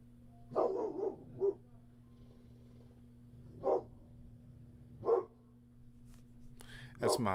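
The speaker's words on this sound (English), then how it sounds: "If you hear my dog barking," A pit bull barks outdoors in a few separate bursts, some in quick pairs and others spaced seconds apart, moderately distant over a steady low electrical hum, with no talking.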